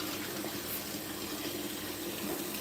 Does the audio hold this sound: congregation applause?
no